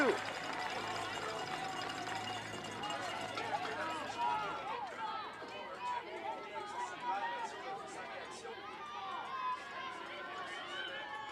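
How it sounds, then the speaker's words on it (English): Crowd at a women's softball game at the Canada Games, Newfoundland and Labrador against New Brunswick, cheering and chattering steadily throughout, with a commentator talking over the noise. "There you hear the crowd getting into it."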